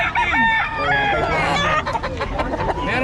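A rooster crows loudly and close at a busy chicken market, with hens clucking around it and people talking in the background.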